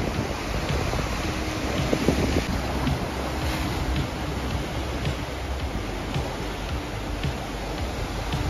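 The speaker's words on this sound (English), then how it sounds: "It's a bit windy as well." Steady wind buffeting the microphone on a rocky seashore at Sitges, with a broad continuous roar of gusts and surf-like rush, loud and close, no talking.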